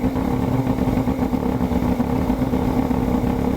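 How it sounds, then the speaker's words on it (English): Outboard motor on a bass boat with a stick jacket being winterized, running steadily with a continuous motor drone and a persistent low hum throughout, close and loud. "I'm going to rev it up as you do it."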